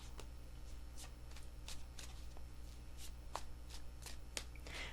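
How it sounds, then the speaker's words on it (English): Rapid riffle shuffling of a tarot card deck, with repeated crisp flurries of snapping card edges, close up and steady, with no talking. "3 shuffles."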